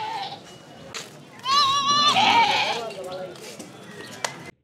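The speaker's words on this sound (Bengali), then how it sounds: "এই বিশাল মাঠের এক কোণে গাছের নিচে বসেছেন ছাগলের হাট" Goats bleat at an open-air goat market under a tree in a large field in Kalsindur, with several loud, wavering bleats in the middle and a murmur of voices and crowd noise around them.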